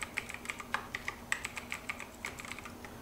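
Quick, light keystrokes on a computer keyboard while a password is typed in, about twenty irregular close taps over a few seconds with a faint steady hum behind them.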